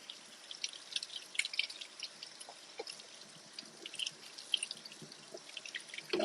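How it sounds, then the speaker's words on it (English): Cold tap water runs over a red onion at a kitchen sink, a faint, patchy stream of drips and splatters that rises and falls close by. "I need to run this under cold water."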